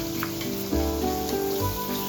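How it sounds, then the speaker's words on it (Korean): Shrimp stir-fry with chopped onion and garlic over medium-low heat, giving a moderate sizzle under gentle background music. "새우를 1분가량 볶다가"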